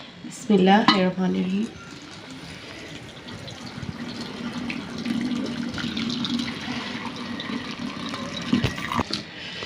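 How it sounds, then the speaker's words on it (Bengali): Boiled rosella tea poured through a strainer, a soft steady liquid trickle and splash with light clinks of a pot or utensil, preceded by a brief louder clatter. "এই যে আমি এটা ছেঁকে নিচ্ছি"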